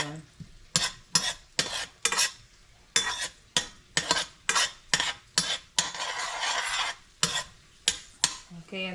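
Garlic frying in a pan, heard close up as a constant sizzle cut through by about a dozen sharp, rhythmic scrapes and clanks of a utensil stirring against the pan.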